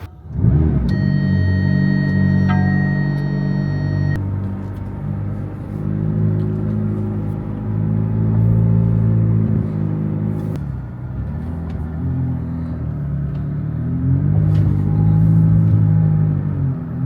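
A stock McLaren 570S supercar engine rumbles loudly and continuously from inside the car, swelling and easing through several rises in revs as it accelerates.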